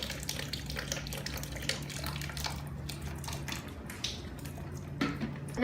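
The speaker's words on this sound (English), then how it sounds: "The water comes out from this hole." Water running and splashing steadily out of the overflow spill hole of a cryolipolysis weight-loss machine once its water tank is full, a continuous close trickle with a low steady hum beneath it.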